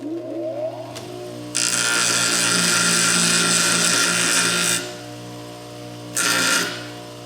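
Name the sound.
grinding down the burr side of saddle rivets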